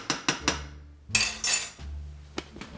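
Tuna noodle casserole mixture being stirred in a pan gives sharp metal-on-pan clinks and scrapes, a few quick knocks followed by a louder scraping burst and scattered taps.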